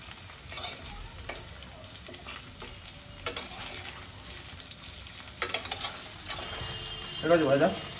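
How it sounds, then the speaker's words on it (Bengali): Chicken pieces fry in a pan for butter garlic chicken, a soft continuous sizzle with occasional stirring clatter, fairly faint, with a voice briefly near the end. "চিকেনটা ভাজা হয়ে গেছে"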